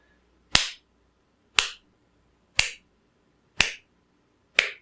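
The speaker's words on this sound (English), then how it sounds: "Just clapping quarter notes." Hand claps land as sharp, crisp single hits in an even quarter-note beat, five evenly spaced claps about one second apart in a quiet room.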